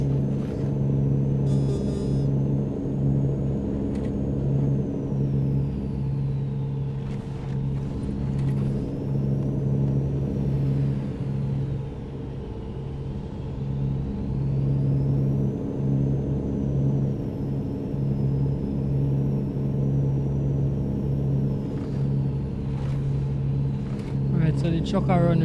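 Volvo VNL truck engine in American Truck Simulator drones steadily with a deep, constant rumble throughout, a loud close cab hum with slight shifts in pitch, under someone talking.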